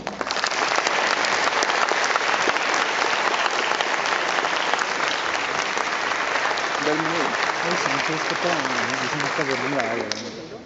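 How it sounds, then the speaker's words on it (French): Strong, sustained applause from an audience welcoming visiting cartoonists, a thick steady roar of clapping lasting about ten seconds, with a voice starting to speak over it near the end. "je vous demande de les applaudir fortement."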